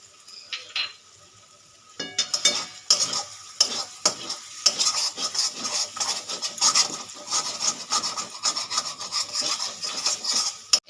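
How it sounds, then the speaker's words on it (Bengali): Slit green chillies tossed into a spice paste frying in oil for a potol and prawn curry, loud continuous sizzling with repeated rhythmic scraping and stirring strokes close up, no talk. "এবারে দিয়ে দেবো চিড়ে রাখা কাঁচা লঙ্কাগুলো"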